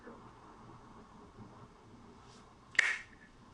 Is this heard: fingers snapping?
yes